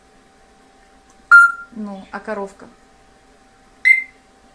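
A pet parrot gives two short, sharp electronic-style beeps imitating a telephone, one near the start and one near the end, with someone speaking briefly between them.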